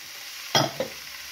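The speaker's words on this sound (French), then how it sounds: "on remue de temps en temps et on fait revenir nos petits lactaires pour qu'ils crachent leur eau de cuisson" Lactarius mushrooms fry in a hot skillet under a faint steady sizzle, broken by two quick scraping stirs, one stronger than the other.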